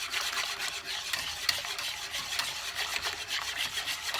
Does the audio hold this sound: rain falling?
no